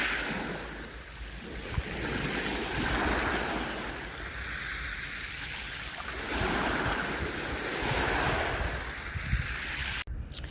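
Ocean waves wash steadily onto a cold beach, broadband surf rising and falling in slow swells with wind noise buffeting the microphone throughout, no voices.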